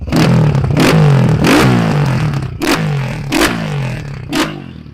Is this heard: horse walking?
no